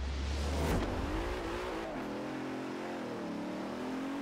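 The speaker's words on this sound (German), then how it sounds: "Dann schauen wir mal, wie sich der Continental GT Horizon Edition so schlägt hier." Bentley Continental GT Horizon Edition engine in Forza Horizon 4 drones in a low rev, surging briefly then settling into a steady cruising hum with rising pitch, fairly quiet.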